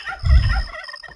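Turkeys gobble in Age of Empires II, one short, low, burbling gobble burst that is fairly loud and heard alone.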